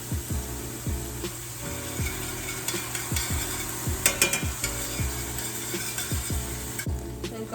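Minced garlic stirred into a hot pan, with regular scraping strokes over a soft continuous sizzle, close and moderately loud, no talking.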